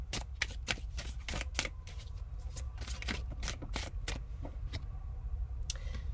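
Tarot cards are shuffled and pulled by hand in a rapid series of crisp, close riffling and flicking bursts. The snaps come irregularly over a quiet background, with no one talking.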